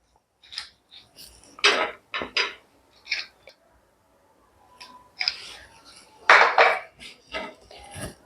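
A pan is handled after roasting spices, with a series of sharp metallic clinks, scrapes and knocks in irregular bursts separated by short quiet gaps.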